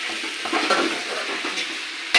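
A spoon stirs curry in a pot over heat while it sizzles, in a temple kitchen. The stirring and frying noise runs steadily and close for the whole stretch, and a sharp metallic clink lands near the end.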